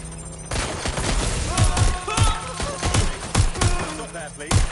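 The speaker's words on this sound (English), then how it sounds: "They're shooting at us!" Gunfire in Watch Dogs Legion crackles in loud, repeated volleys of sharp shots throughout, with busy game sounds and faint voices mixed in.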